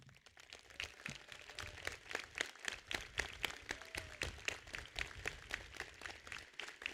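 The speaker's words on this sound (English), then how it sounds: "Join us in giving them a huge round of applause." Steady applause from a crowd at a high school graduation, many hands clapping continuously at an even pace, heard from a distance and fairly faint.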